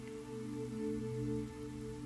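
Raindrops patter softly and steadily on a surface, faint and continuous, with low steady tones humming beneath.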